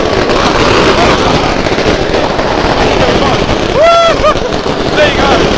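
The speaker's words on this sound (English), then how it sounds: "someone's just set off some fireworks" Fireworks set off on a city street in Manila at New Year crackle and pop in a dense, loud, continuous barrage, with wind buffeting the microphone and a voice exclaiming partway through.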